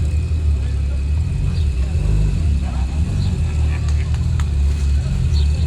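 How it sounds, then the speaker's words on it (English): Modified Volkswagen cars rumble past at a beach-road cruise, a steady mid-pitched engine drone with some revving and a faint high turbo whine on top, close and continuous, with crowd voices underneath. "Yeah, and turbo spool, this is nice."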